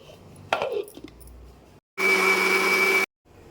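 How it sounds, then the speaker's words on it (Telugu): A mixer grinder blends boiled, cooled pumpkin pieces into a fine paste, a loud steady whir that lasts about a second, stops abruptly, and follows some brief handling clatter of the jar beforehand. "ముక్కలు బాగా కూల్ అయిన తర్వాత మిక్సీ జార్లోకి ట్రాన్స్ఫర్ చేసుకుని బాగా ఫైన్ పేస్ట్ లాగా చేసుకోవాలి"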